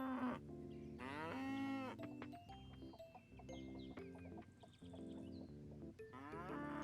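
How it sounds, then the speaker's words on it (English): A cartoonish cow moos repeatedly while being milked in the farming game Coral Island, with chickens clucking and light game sound effects scattered around the calls. "I like how the animation just, like, lets you milk the cow."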